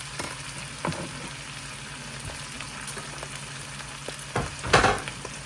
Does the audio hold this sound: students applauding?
no